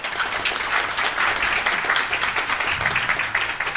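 A forum audience at a natural gas and energy security event gives the discussion panel a big round of applause, a dense, continuous crackle of many hands that stays at full strength throughout.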